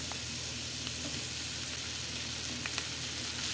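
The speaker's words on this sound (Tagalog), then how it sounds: "At saka natin igigisa ang ating bawang at sibuyas." Garlic and onion sauté in melted butter in a pan, giving a steady, close, loud sizzle with occasional faint crackles and stirring, continuous throughout and without voices.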